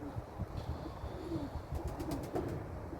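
A pigeon coos softly in the distance over steady background noise.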